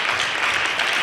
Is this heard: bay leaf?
no